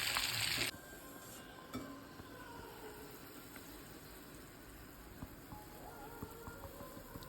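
Fish frying in hot oil in a kadai, a steady soft sizzle running throughout with a louder burst of crackle at the very start and occasional small pops.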